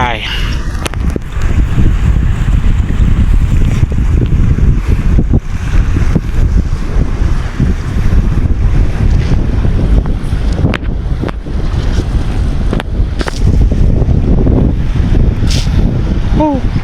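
Strong wind roars across the microphone aboard a small local fishing boat at sea, loud and gusting throughout with waves and hull knocks underneath, and a voice speaks briefly amid the buffeting.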